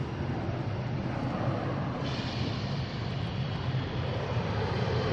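United Airlines Embraer E175 regional jet at Boston Logan, bound for Dulles, a continuous broad engine rumble and rushing roar at moderate distance, steady throughout with no talking.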